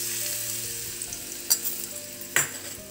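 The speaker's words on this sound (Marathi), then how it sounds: "ही खमंग अशी फोडणी आता आपण या चटणीवरती घालून घेणार आहोत" Mustard seeds, cumin and red chillies crackle in a hot oil tempering poured over raw mango chutney, a close steady sizzle with two sharp spattering bursts.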